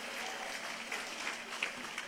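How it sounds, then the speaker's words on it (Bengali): Applause for graduates' parents at a university convocation: a dense, moderately faint patter of many hands clapping together, steady across the stretch with a few sharper claps standing out. "আপনাদের জন্য একটি জোরে করতালি প্লিজ"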